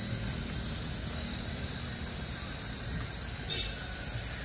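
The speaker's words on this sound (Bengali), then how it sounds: "এখানে কি সুন্দর ঝিঝি পোকার ডাক" Crickets chirp at night in the hills of Dawaipani near Darjeeling, a dense, continuous high shrill that stays steady and fairly loud throughout, with no voices.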